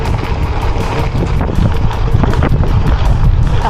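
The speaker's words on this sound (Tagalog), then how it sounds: "Lakas ng hangin, grabe." Strong wind during a 120 km gravel bike race buffets the microphone in a steady, loud roar, with gusty low rumbling and no voices.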